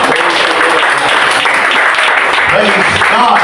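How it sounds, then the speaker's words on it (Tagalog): A church congregation claps together as an offering during worship, a dense, continuous wash of applause with voices mixed in throughout. "A clap offering to the Lord."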